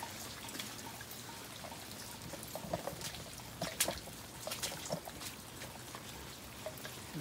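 Irrigation water runs and trickles on a farm in hot weather, a faint, continuous splashing with scattered drips and light spatter heard up close.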